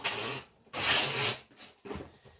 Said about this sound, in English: we'll throw some tape down here,